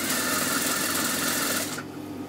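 A sewing machine runs a continuous, fast stitching whir while sewing a seam on a shalwar, then stops abruptly near the end with no voices.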